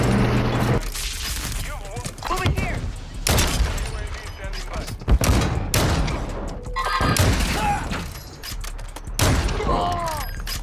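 Rapid gunfire and explosions in a first-person shooter game, including sniper shots, dense and continuous bursts close up, with excited players talking over the action.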